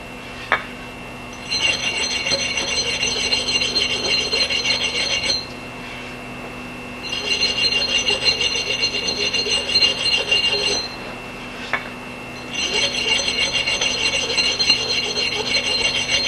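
An axe edge is rubbed on a diamond sharpening stone in three long bursts of steady gritty scraping, each a few seconds long with short quiet pauses between, close and fairly loud.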